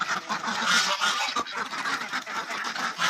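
A flock of Agidel broiler ducks calls out together in a dense, continuous chorus of honking quacks, loud and close, with no voices over it.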